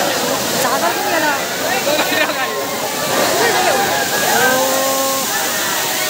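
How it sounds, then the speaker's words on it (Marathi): A large waterfall roars as a steady, loud rush of water close by. Voices talk over it throughout. "खूप मोठा धबधबा आहे, खूप भारी आहे."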